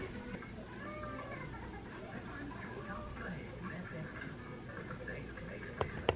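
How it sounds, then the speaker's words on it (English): A house cat named Lacey meows several times with a toy hanging from her mouth, the muffled cries faint against background room noise, with a person speaking quietly. "she has like the toy hanging out of her mouth and meowing"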